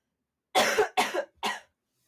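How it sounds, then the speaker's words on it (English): Three harsh coughs in quick succession, close and loud, with brief silences between them and nothing else around. "Need to take a cough break."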